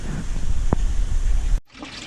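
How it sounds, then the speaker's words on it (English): Water pours steadily into a 1000-gallon aquarium sump filter, a continuous broad rushing wash that cuts off abruptly near the end before a quieter trickle resumes. "Almost done filling up the sump."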